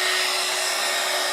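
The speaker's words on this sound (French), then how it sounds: "Moi, je chauffe par le dessous parce que mon pistolet, je trouve qu'il n'est pas très fort." A heat gun blows continuously and steadily at close range while melting embossing powder for card making, a loud airy whoosh with a faint whine and no talking.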